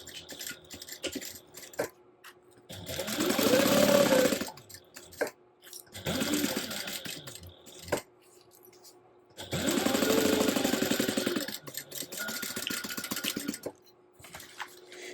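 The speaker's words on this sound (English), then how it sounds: "And we're going to sew that together at a 3/8 inch seam allowance." A sewing machine stitches a 3/8 inch seam joining a crossbody bag's front piece and card slot panel, running in three steady whirring bursts separated by pauses with small handling clicks.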